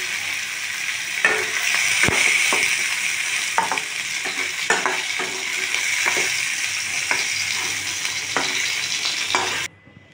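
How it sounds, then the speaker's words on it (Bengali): Fried fish is lifted out of sizzling oil in a kadai: a loud, steady sizzle with scattered metal clinks of a utensil, cutting off abruptly near the end. "মাছগুলো ভাজা হয়ে গেছে, এবার তুলে নিচ্ছি।"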